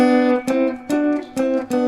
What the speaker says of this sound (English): Now a harmonized 3rd, on the other hand, sounds like this.